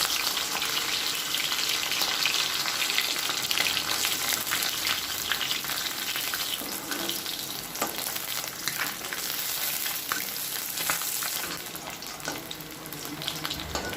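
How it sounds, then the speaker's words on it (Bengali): Parse fish frying in hot oil in a wok, a continuous dense sizzle and crackle with occasional stirring or turning sounds, loud and close throughout. "এবার একে একে মাছগুলো আমি কড়ার মধ্যে দিয়ে দেব।"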